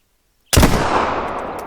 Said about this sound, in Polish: Poszedł kolejny strzał.